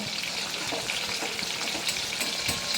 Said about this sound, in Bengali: মাছটা উল্টানো যাচ্ছে না দাঁড়াও ভাজাটা হোক ভালো হবে